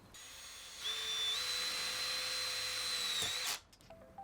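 A power drill whines steadily for a few seconds as it drives a self-drilling screw into a polytunnel greenhouse frame joint, pitch rising then holding, and the motor stops abruptly.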